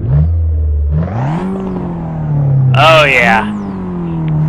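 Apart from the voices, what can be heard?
Fiat 500 Abarth engine revving in a video game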